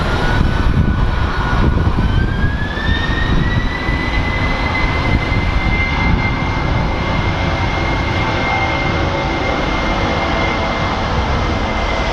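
An ABX cargo jet takes off with a powerful, sustained roar as the engine whine climbs in pitch and then holds steady, loud at first and easing slightly as it stays in the air.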